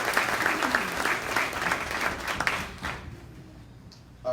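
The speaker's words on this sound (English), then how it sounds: "Let's give them another round of applause" An awards ceremony audience applauds for honorees, a full round of clapping from many hands that holds steady for a few seconds, then drops away to near quiet with a brief sound at the very end.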